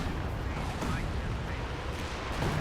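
Artillery strikes in the strategy game Company of Heroes 2 during a 4v4 match, a dense low rumble of distant booms and blasts rolling continuously, with someone talking over it.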